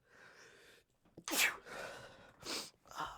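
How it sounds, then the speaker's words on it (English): A single sharp sneeze bursts out after a quiet breathy lead-in, followed by a short exhale and a softer second burst, close and fairly loud. "I need to sneeze."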